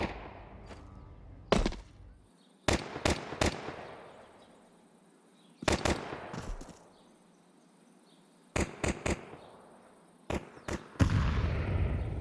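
Several sharp grenade blasts from a Counter-Strike match burst out one after another, loud and abrupt, with quieter gaps between them and a rough, noisy tail after each burst.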